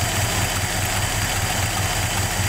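An engine in an abandoned Plymouth Fury idles steadily, with a low, even rumble and a rhythmic pulsing throb.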